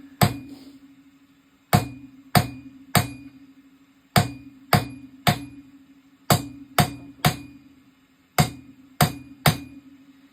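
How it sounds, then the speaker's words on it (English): Hammer forging metal at the edge of an anvil: about fifteen sharp ringing strikes in uneven bursts of two or three, each leaving a short metallic ring, loud and close with no talk. "you bring it right to kind of the edge of the anvil, and you're kind of hitting down"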